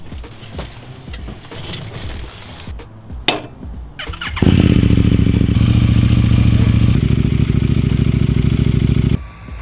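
A KTM 990 Duke stunt motorcycle: a few clicks and handling noises, then the engine fires and runs loud and steady at close range for about five seconds before cutting off sharply.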